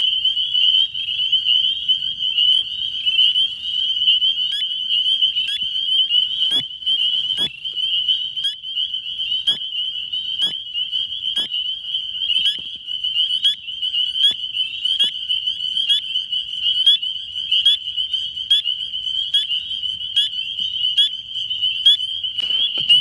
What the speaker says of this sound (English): I actually hear another spring peeper,